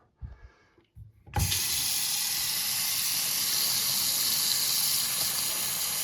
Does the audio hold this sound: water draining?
yes